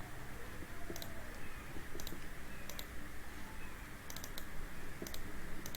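A computer mouse clicks twice in quick succession, with a few other light, sharp clicks spread out over several seconds against a steady low room hum.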